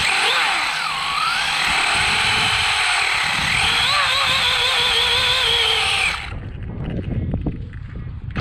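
Traxxas Slash RC street eliminator car racing with tires spinning on a cold surface, a loud high-pitched electric motor whine rising and wavering for about six seconds, then cutting off to quieter rustling and handling noise.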